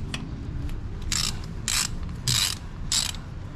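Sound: wrench removing a motorcycle bolt

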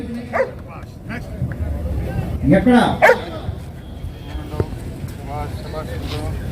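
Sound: dog barking

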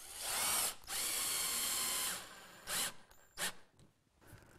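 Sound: power drill driving screws into pilot holes in wood

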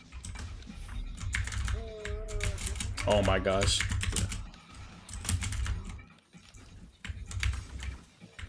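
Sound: typing on a wireless computer keyboard

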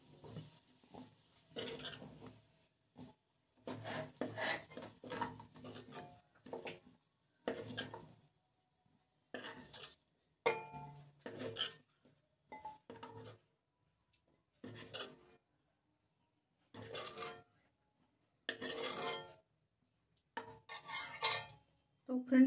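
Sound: cooked water chestnuts being taken out of the pot

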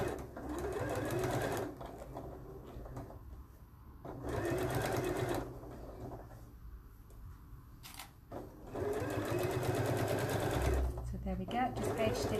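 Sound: sewing machine top stitching a garment

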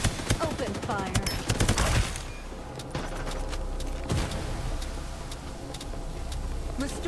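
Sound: gunfire in a video game

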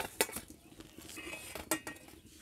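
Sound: taking fried egg omelette toast out of the pan

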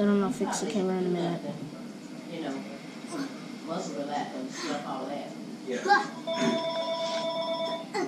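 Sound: telephone ringing

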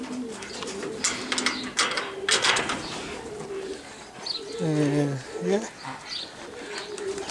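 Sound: racing pigeons cooing at a loft

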